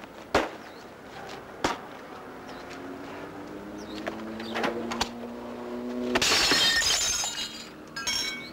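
A glass vase shatters in a loud, close crash, a bright burst of breaking glass with scattered clinks, after a stretch of quieter room sounds and a few sharp knocks.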